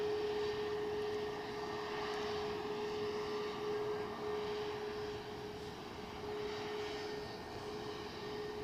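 A British Airways jet airliner taking off from the runway at Edinburgh Airport, a steady distant roar of jet engines with a sustained whine, holding level throughout with no voices.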